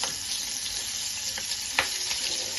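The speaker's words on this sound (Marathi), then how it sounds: "मिरची पण मी अशीच तळून घेते" Green chillies frying in hot oil in a pan while making poha chivda, a continuous bright sizzle with a few brief crackles and stirring scrapes, close and steady.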